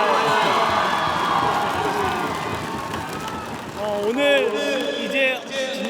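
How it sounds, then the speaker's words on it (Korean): A baseball stadium crowd roars and applauds steadily in the background while someone talks over the noise. "팬여러분들 박수가 아낌없이 나와"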